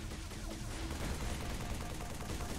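Gunfire from a Halo 3 campaign on Legendary difficulty crackles in a dense, continuous barrage for a couple of seconds, with no talking.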